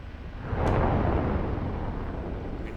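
An AGM-114K Hellfire missile launches from an OH-58D Kiowa Warrior in the DCS flight simulator, a loud rushing roar that swells after half a second and sustains as a broad, steady whoosh.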